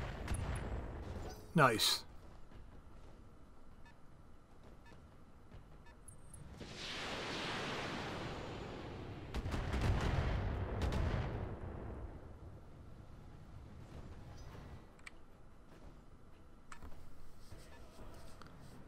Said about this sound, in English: All weapons, fire.